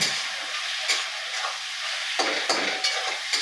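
Flattened rice (chira) tipped into a hot pan with peanuts and salt for chirer polao and mixed, a loud close sizzle with repeated scraping stir strokes, no speech.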